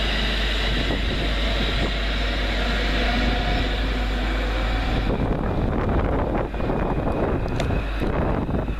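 A Class 350 train pulling out of a station on a wet January morning, its rumble and wind-buffeted noise filling the platform, then easing to a quieter hiss with scattered clanks as it moves off.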